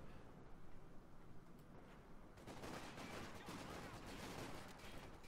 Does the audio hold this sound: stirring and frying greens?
no